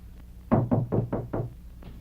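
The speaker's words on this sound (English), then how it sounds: "Answer the door." Five firm knocks strike a door in quick, even succession, close and distinct, in a 1941 western film scene, with no talking over them.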